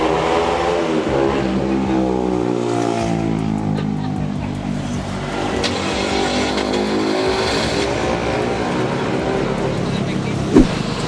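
A Mazda RX-8 rotary engine starting and revving in neutral, a loud, close, steady idle with rising and falling rev sweeps and people talking over it throughout.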